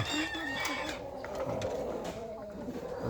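Chickens cluck and call nearby, a busy overlapping chatter of fowl with some background noise.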